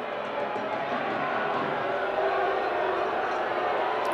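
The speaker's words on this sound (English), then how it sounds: "Crowd not enjoying that a whole lot." A soccer stadium crowd at a Detroit City FC away match in Chattanooga murmurs and jeers in disapproval, a continuous, distant roar of many voices with no single standout call.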